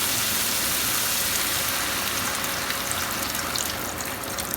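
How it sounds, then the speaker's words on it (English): A continuous rush of chicken broth being poured into a pot, a steady splashing gush that holds for several seconds without pause. "I'm just going to pour everything in I have."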